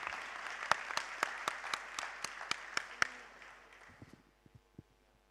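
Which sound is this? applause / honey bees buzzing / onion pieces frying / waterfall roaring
applause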